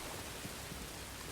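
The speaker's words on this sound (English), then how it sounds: "Nice rain and water." Soft rain and running water in Star Wars Jedi: Fallen Order, a faint, even hiss with no distinct drops or voices.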